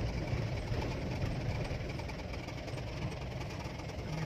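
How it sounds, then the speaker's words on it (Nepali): A motorbike engine near a mountain pass, a steady mid-pitched rumble with a knocking throb that holds loud and close throughout, droning on behind as it approaches. "पछाडि पछाडि बाइक रहेछ"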